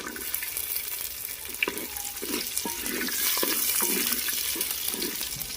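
Whole onions and chicken fry in a handi for a village-style dish, giving a steady sizzle with bursts of bubbling and clinks of stirring, close and fairly loud.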